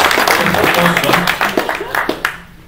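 Brief burst of applause from a small group, mixed with people talking, dense at first and then thinning into a few scattered claps.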